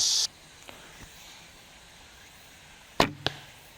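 A carbon arrow with a 75-grain point is shot outdoors in light wind: a sharp release hiss, a quiet lull, then a loud whooshing impact with a quick second knock.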